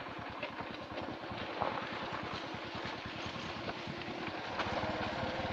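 Motorbike riding along a rough forest road and bridge in Simdega, Jharkhand, the engine a steady pulsing drone with rattling, heard from the bike itself, moderately loud and continuous with no talking.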